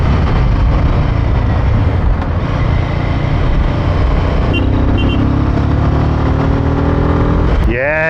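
A Royal Enfield Himalayan 450 motorcycle accelerates hard during an overtake, its engine a loud continuous roar mixed with heavy wind buffeting, with a brief rising tone near the end.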